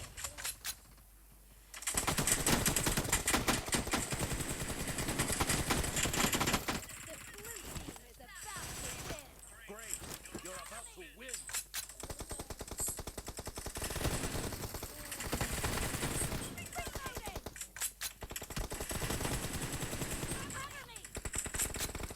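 Automatic gunfire in a PUBG team deathmatch, rapid machine-gun bursts in long sustained volleys with short pauses, loud and close, with a voice talking over it.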